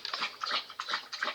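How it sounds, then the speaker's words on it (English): A dog whimpering close by in a rapid series of high, nasal whines and short cries, fairly loud and with no one talking. "My dog doing everything she can now."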